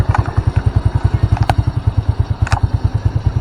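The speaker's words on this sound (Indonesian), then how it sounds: "kita naikkan RPM nya" A Honda Supra motorcycle engine, one prone to heavy fuel use, black spark plugs and hard morning starts, pulses in a fast, even, close thumping beat with light mechanical clatter, the revs held up steadily without talk.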